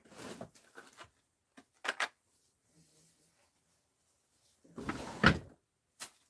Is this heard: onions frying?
no